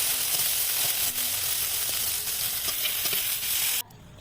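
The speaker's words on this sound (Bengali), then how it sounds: "বাঁধাকপিটাকে ধুয়ে রাখা বাঁধাকপিটাকে জল ধরে ভাজতে লাগলাম" Washed cabbage and carrot fry in a pan with a loud, dense, continuous sizzle and faint stirring scrapes, and the sound drops away abruptly near the end.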